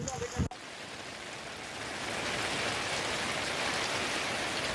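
Rain falls steadily in Navli village near Mahabaleshwar, after days of heavy rain that caused land to sink. It begins after a brief thump and becomes a continuous, moderately loud hiss of drops.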